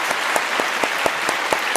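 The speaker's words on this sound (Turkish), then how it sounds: "Can Bey siz de alkışlayın" Audience applause in a TV game show studio, a steady wash of many hands clapping at close range with no talk over it.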